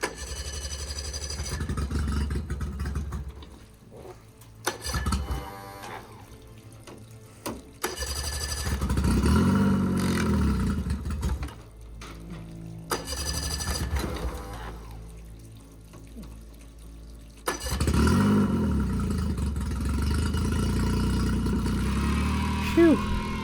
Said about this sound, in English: see if the engine that's been sitting for 7 years will